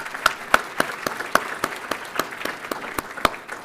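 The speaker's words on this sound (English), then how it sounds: "Let's give them a round of applause." Applause from the audience at a landlord and small developers summit: a sparse, steady patter of individual hand claps with a few louder, distinct smacks, fairly close and heard without speech.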